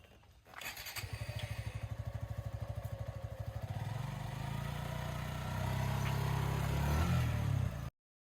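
A motorcycle engine chugs close by, then builds into a steadier, louder drone as it pulls away, before cutting off abruptly near the end.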